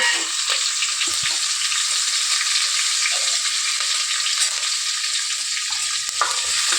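Hing and green chilies frying in hot oil for a samosa filling, giving a steady, loud, close sizzle that holds evenly throughout, with faint stirring clicks and no talking.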